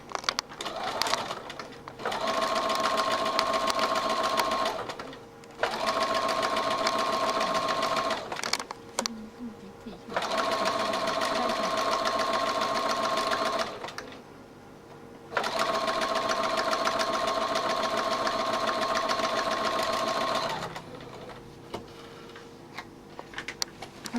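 A sewing machine stitches through a bag panel, running in four long steady bursts of close, even whirring, with short quiet pauses between them.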